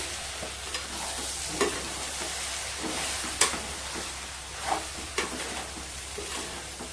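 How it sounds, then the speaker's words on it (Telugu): Flattened rice (poha) stirred in a hot pan gives a close, low sizzle with repeated scraping and clinking strokes of the spoon at an uneven rhythm, some sharper knocks standing out, no talking. "మంచిగా కలుపుకోవాలి. ఒక 2 నిమిషాల దాకా ఇట్నే కలుపుకుంటా ఉండాలన్నమాట."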